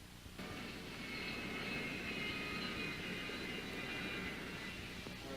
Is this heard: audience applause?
no